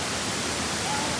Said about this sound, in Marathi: पाण्याचा धबधबा